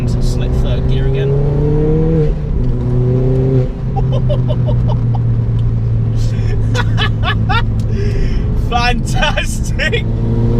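A 350 hp Ford Fiesta ST MK7 with a hybrid turbo, ported manifold and decat, revving hard through the gears with rising and falling engine tones, plus crackling pops and bangs on the overrun, loud and close under a speaking voice.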